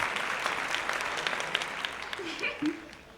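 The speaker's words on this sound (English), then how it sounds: "A little round of applause, please, for Adeline Eustice" An audience applauds a young guest on a talk-style show, dense steady clapping throughout with a brief cheer near the end.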